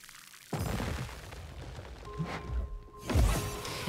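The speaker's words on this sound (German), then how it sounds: "Mit meiner Gießkanne, die niemals ausgeht." A watering can pours in the video game Grow: Song of the Evertree, giving a steady watery rush with splashy swells and impacts, plus a faint sustained tone partway through.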